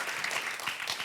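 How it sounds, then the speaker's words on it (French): Applause from a French television studio audience on a couples game show, a steady burst of many hands clapping, fairly faint and distant. "on peut applaudir Guillaume qui s'occupe des sons"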